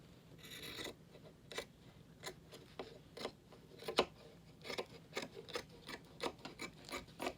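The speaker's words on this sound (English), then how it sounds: "I'm just going to cut this piece out" Scissors cut out a fabric piece for a sewing project, making a steady series of rasping snips and crisp blade closes, close and fairly quiet, with no talking.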